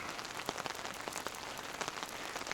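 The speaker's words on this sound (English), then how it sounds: "It's raining pretty good." Steady rain drums on surfaces outdoors during trout cooking in Washington State, a dense continuous patter with scattered sharper drops, fairly loud and with no talking.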